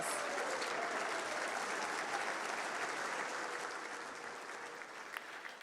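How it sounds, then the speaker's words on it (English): Audience applause for three 2025 BC Innovators Hall of Fame inductees at a technology awards show, a steady dense clapping wash held throughout at moderate distance, easing slightly toward the end. "Please join me in a round of applause for all our 3 2025 BC Innovators Hall of Fame inductees"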